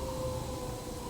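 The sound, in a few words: siren in the video game Journey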